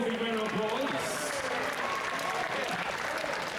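A sports crowd applauds during player introductions before a match, a steady wash of clapping at moderate distance that runs evenly for several seconds while a voice carries faintly through it.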